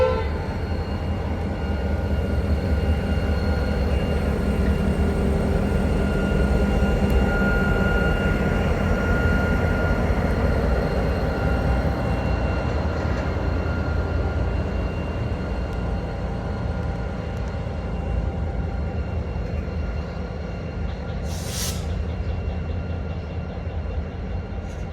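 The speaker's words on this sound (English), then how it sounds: "One of the most interesting movements around Minto is the traffic entering the Minto Macarthur Freight Terminal." A freight trip train rumbles steadily into the Minto Macarthur Freight Terminal at Minto, a continuous loud low roll of wagons with a brief horn-like burst near the end.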